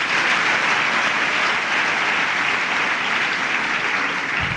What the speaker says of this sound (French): Merci de lui applaudir, s'il vous plaît.